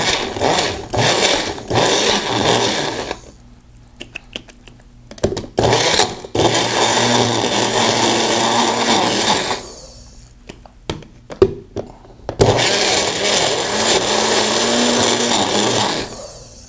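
A Magic Bullet blender mixing in a mug, loud whirring bursts of several seconds each, separated by short pauses and clicks as it is stopped and restarted.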